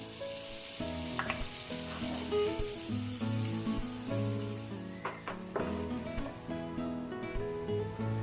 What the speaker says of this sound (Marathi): पॅन गरम झालेला आहे त्यामध्ये आपण राहिलेले बटरचे तुकडे टाकून घेऊया गॅस बारीक करून त्यामध्ये आपण पनीर परतून घ्यायचं